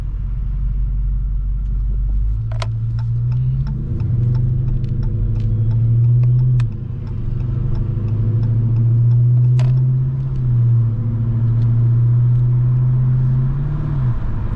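Car on a test drive with a slipping transmission: a steady low engine rumble whose pitch climbs and falls as the revs flare, with faint clicks and cabin rattles heard close inside the vehicle.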